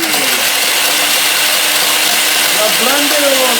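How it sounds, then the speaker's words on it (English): A blender whirs loud and steady as it grinds moose pemmican, its motor pitch wavering and dipping near the end as the load shifts, with faint talk beneath. "Keep blending."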